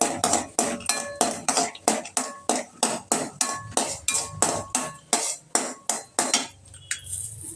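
Peanuts roasting in a pan for bottle gourd chutney give a steady run of about fourteen evenly spaced clinks and scrapes. A utensil strikes the pan in a regular rhythm, close by and clear.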